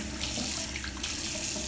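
Tap water runs steadily into a sink or basin while a cat is bathed, a continuous close splashing rush with no voices.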